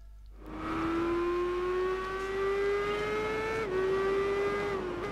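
An MV Agusta F4 1000S sport bike races in the Tourist Trophy game at Grand Valley Speedway, its engine rising into a loud, steady high-revving whine held for several seconds with a brief dip near the end.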